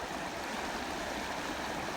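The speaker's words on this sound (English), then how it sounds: "And there's the creek." A creek running full after heavy rain rushes past in a constant broadband roar of flowing water, steady and close throughout, with no voices.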